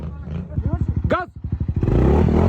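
A motorcycle engine revs hard, pulsing and rising in pitch as the throttle opens, then roaring steadily, with someone shouting over it.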